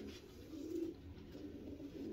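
A pigeon in a loft coos softly, a low rolling purr that carries steadily through the short stretch under faint background noise.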